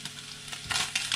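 Packet noodles tipped into a hot frying pan with garlic oil, a short close burst of sizzling and stirring scrapes that flares up loudly near the end, with no voice.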